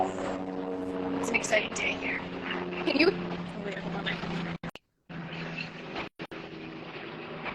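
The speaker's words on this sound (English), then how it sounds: "Hold for the helicopter." A helicopter drones nearby with a low, steady engine hum beneath a voice, while the sound cuts out in brief dropouts near the end.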